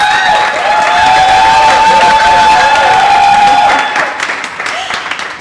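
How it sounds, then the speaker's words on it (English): A crowd at a launch celebration applauds loudly with some cheering and a sustained tone over it, the clapping thinning out toward the end. "Please give a round of applause."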